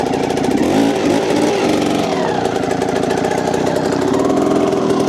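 A motorcycle engine runs steadily and loudly up close with a throbbing, uneven rumble during a clutch-and-throttle pivot turn, the pitch wavering slightly as the throttle is worked, with no talking.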